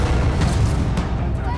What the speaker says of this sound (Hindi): अरे गोली चली